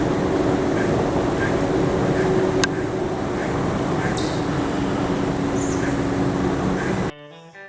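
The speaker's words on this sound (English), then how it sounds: "The last thing a squirrel will do is set off an alarm bark alerting other squirrels that there is danger" A squirrel gives an alarm bark: a string of short, sharp, evenly spaced chirps, moderately faint and somewhat distant, over a steady low rumbling background, ending abruptly.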